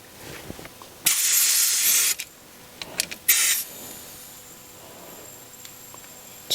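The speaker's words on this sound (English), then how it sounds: "I'm going to screw in my leak down and put some air pressure in." Compressed air hisses from a leak-down tester threaded into a cylinder of a Porsche Boxster during a 100K service, in loud close bursts that cut in and out, with softer shop noise between them.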